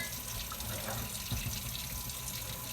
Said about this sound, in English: now we're going to clean the scale off under the water